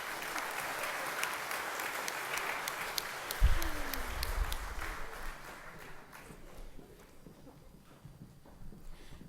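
A banquet audience applauds top fruit sellers at a school FFA banquet, a spread-out wash of clapping with a thud midway, then thinning and fading into scattered claps and room noise.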